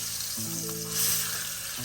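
Blackened salmon fillets sizzle loudly in a hot pan as one is flipped, a dense continuous crackle with a brief swell in the middle and a low tonal hum beneath.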